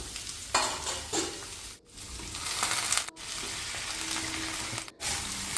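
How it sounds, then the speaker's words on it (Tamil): Chopped bottle gourd with curry leaves and chillies sizzles loudly in a pan while a spoon stirs and scrapes it in repeated strokes, with brief pauses between bursts. "எல்லா காய்கறிகளும் இப்போ சேர்த்திக்கலாம். இதை நல்லா வதக்கி விட்டுக்கலாம்."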